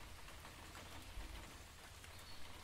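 Steady rain falls over a riverside landscape on a rainy day as a soft, continuous hiss with fine pattering, quiet and unbroken throughout, with no voices.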